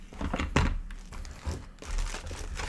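A sticker packet from a boxed figure toy being torn open by hand, close crinkling and ripping of thin foil or plastic in several short rustling bursts.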